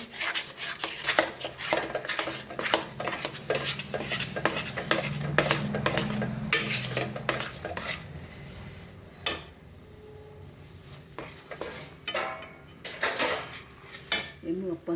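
Barfi mixture being roasted and stirred in a pan, with a spoon repeatedly scraping and clattering against the metal in a steady rhythm, loud and close, and no talking.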